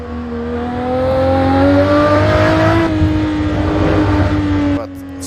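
A Ferrari F50's high-revving engine roars steadily with a rising pitch in the Assetto Corsa racing game at the Nordschleife, then drops off abruptly near the end, loud and close.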